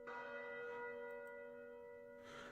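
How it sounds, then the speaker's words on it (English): A town church bell rings out in a video game scene, a sustained resonant tone with long ringing overtones, fairly faint and heard alone, with a second strike near the end. "The sound of bells ring out from the town church"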